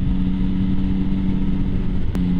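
Yamaha MT-09 motorcycle engine running at a steady, loud drone, with a brief break and change in pitch near the end as a blipped downshift comes through.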